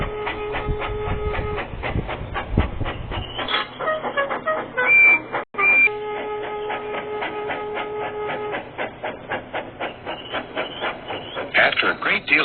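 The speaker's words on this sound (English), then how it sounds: "After a great deal of shunting, Percy was waiting for the signalman to set" A train clanks and clatters in a steady rhythmic clickety-clack, with a brief whistle-like tone and a short break in the middle.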